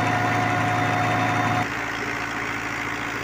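A New Holland Dabung 85 tractor engine runs steadily at 1700 rpm, driving a 5-inch water turbine, with a close, constant diesel drone and rumble whose tone shifts slightly partway through, with no talking.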